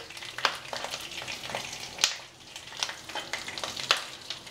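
Large bajji green chillies fry in a pan on medium-low heat, giving soft sizzling with irregular sharp pops and crackles spread through the moment, close by.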